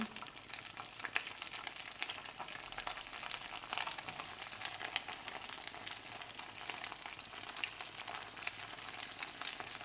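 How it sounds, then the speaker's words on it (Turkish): Steady, close sizzling and crackling of sausages frying in hot oil, continuous and even throughout, with no voices. "Kızdı yağımda hemen içine bakın sosisimi koyuyorum."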